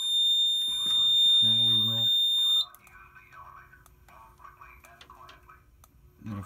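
A fire alarm system sounds during a voice evacuation test, with a loud steady high electronic tone and a low horn burst in the first two and a half seconds, then stopping as people talk quietly nearby.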